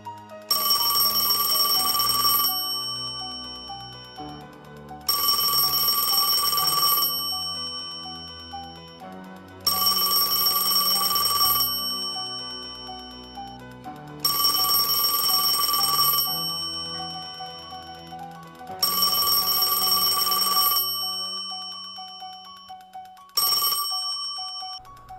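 An old telephone bell rings loudly six times in a steady pattern, each ring a bright metallic burst lasting about two seconds with a pause between, and the last one cut off short.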